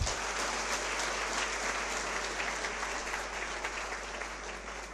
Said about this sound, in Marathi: एकदा तुमच्या स्वतःसाठी, मायबापासाठी आणि मान्यवरांसाठी झणझणीत टाळ्या होऊ देत